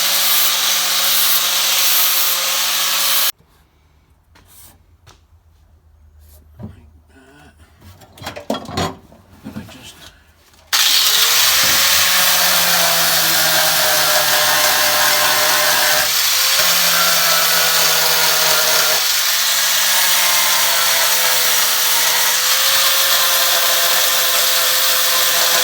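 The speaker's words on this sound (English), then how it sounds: "make the holes in the plate for the isolator, and then make a little stand off it" A power tool drills holes in a plate for an isolator while wiring a 2007 Mustang, with loud sustained grinding runs and motor whine broken by a quieter pause and brief stops between holes.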